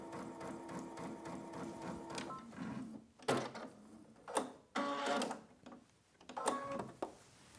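A Brother XV sewing machine stitches a straight line with a steady rapid mechanical whir and needle clatter, then runs in short bursts separated by brief pauses, close and clear.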